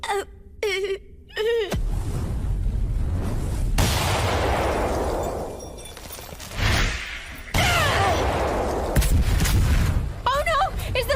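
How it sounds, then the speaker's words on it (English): A building explodes in an anime scene: heavy booming blasts and long rumbling, crashing debris roll on for several seconds, loud and close, with brief shouting voices at the start and near the end. "Is the building exploding?"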